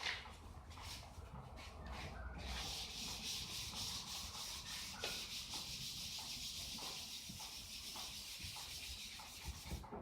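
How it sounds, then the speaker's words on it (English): Wet sanding with 600 grit sandpaper on a hard block over a cured 2K clear coat, a steady continuous rasping scrub that carries on close and moderately loud throughout with no talking. "Got our 600 sandpaper."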